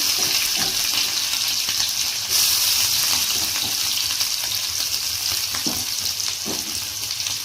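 Four green chilies frying in hot oil in a pan while making puri palya, a steady loud sizzle with a brief stronger burst near the start and light stirring scrapes throughout.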